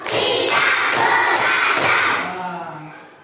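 A classroom of children plays a counted clapping game: four sharp, evenly spaced group claps ring out over loud, excited shouting, which then fades into a single lingering voice.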